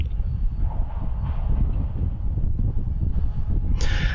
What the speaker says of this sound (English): So that train had to go through